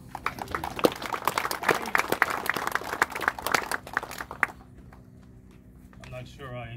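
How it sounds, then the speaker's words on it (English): An audience at a veterans' community gathering claps for a few seconds, close and crisp with scattered individual claps, before the applause fades into near silence as a voice begins. "I'm not sure I deserve all the applause."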